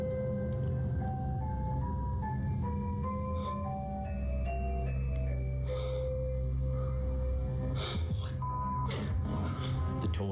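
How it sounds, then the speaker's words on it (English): A toy in a nursery plays a tinkling melody by itself, clear stepped tones moving up and down in a music-box or jingle style, steady and alone, with a few soft bumps and rustles near the end. "she finds a toy playing a tune on its own."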